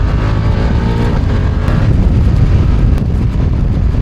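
A BMW F900R motorcycle is ridden at speed, its engine droning steadily beneath heavy wind rush across the microphone, loud and continuous throughout.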